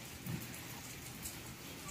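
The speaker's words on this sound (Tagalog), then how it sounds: "Tinabot pa tayo ng ulan." Rain falls in a steady soft hiss during a roadside stop in Batangas, faint and even with light rumble beneath, and no one speaking.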